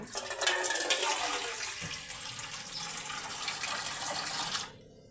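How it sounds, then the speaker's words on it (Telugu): Water is poured into a pot of Nellore-style fish curry, a steady, close splashing stream lasting about four and a half seconds before cutting off into near silence. "అందులో కొద్దిగా వాటర్ వేసుకుందాం."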